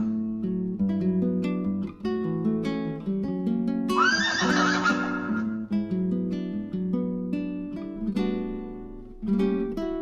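A horse gives one loud, high neigh midway through, set against sustained music that carries on throughout.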